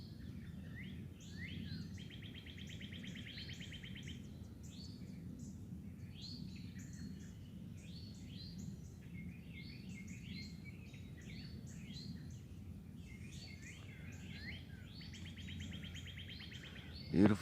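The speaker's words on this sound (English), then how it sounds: "crows finally took off, so the birds are happy." Morning birdsong with repeated chirps and trilled phrases from several small birds, steady and moderately close over a low background rumble, continuing throughout with a brief bump at the end.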